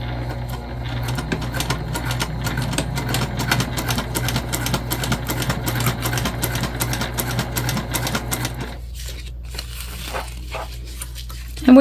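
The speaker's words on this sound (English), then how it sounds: "then we're gonna sew it at the full seam allowance" Sewing machine stitching a seam on a travel sling bag, a steady rapid mechanical whir with regular needle ticks that stops near the end, leaving brief quieter handling noises.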